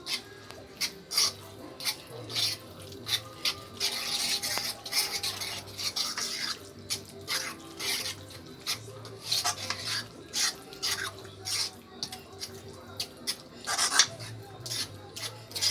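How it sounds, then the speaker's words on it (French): A utensil stirs sauce into tuna in a bowl with steady, repeated scraping and rubbing strokes close by, rhythmic and continuous, with occasional light clinks against the bowl and no talk over it. "Il faut mélanger bien."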